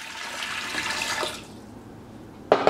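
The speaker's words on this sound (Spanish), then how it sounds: "Voy a agregar agua." Water poured into a pressure cooker while pork in red sauce is prepared, a splashing flow lasting about a second and a half, then a quiet gap and a sudden clatter at the end.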